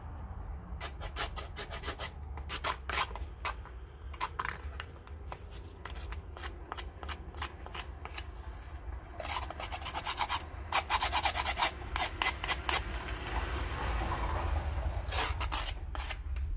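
Paper is roughened with quick repeated rubbing strokes, close and crisp, coming in short scratchy bursts that speed up and grow denser toward the end, with no voices.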